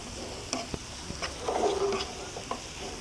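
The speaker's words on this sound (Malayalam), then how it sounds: "എന്നിട്ട് നല്ല പോലെ ഇളക്കി കൊടുക്കുക." Homemade garam masala is stirred into a pot of chicken biryani cooking outdoors by a riverbank: a spoon scrapes and knocks against the pot in irregular strokes over a soft sizzle, with no talking.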